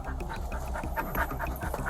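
A dog panting in quick, rhythmic breaths, close and fairly loud, with small whimpering squeaks mixed in and no speech.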